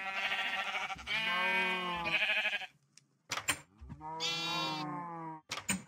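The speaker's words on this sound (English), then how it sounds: "Sheep." Minecraft sheep bleat twice in a video game, two long wavering harmonic cries separated by a short pause and a few clicks, loud and close.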